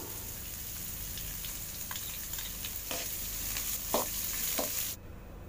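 Sliced onion sautéing with slit green chillies and curry leaves for an idli egg masala, a constant sizzle with a few soft scrapes of the spatula, cutting off abruptly at the end, no talk.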